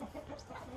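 Chickens sitting in a hen box give a short, soft run of low clucks, faint and close.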